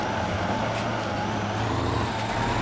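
A truck engine in the Spintires off-road driving game drones steadily through deep mud, a continuous loud low rumble with a slight whine and no breaks.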